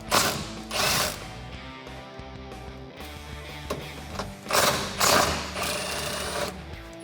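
An impact wrench removes bolts from a 2016-2020 Toyota Tacoma rear bumper bracket, giving bursts of loud, rattling hammering separated by short pauses and mechanical clatter, heard up close.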